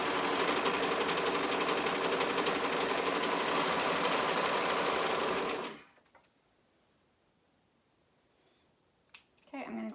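A serger sews the shoulder seams of a sweater, a loud, fast, steady mechanical whirring that stops abruptly, followed by near silence with a few soft handling clicks.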